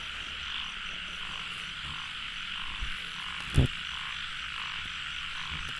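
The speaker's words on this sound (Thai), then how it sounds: "โอ้ไม่ได้ยินเสียงเขียดแบบนี้มานานแล้ว" Frogs croaking on a rainy night after the first rain of the year, a dense continuous chorus with a steady pulsing drone and one brief nearby thump, no talking.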